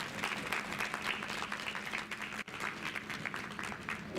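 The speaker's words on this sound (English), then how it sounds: "can you all give him a good applause" Audience applause at an international seminar, a sustained patter of clapping hands that carries on steadily for several seconds, moderately close, with a brief dip midway.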